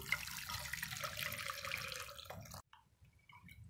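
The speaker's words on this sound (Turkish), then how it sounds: "Çorbamızın suyunu bu şekilde süzekten süzdüm." Fish soup broth poured through a kitchen strainer, a soft continuous trickle and splash of liquid that stops suddenly, leaving a few faint drips.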